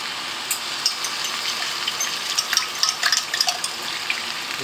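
Vegetable stock poured into a pan for a Chinese chicken and mushroom curry base, a steady close liquid gush with light sizzling and splashing over about four seconds, with no voices.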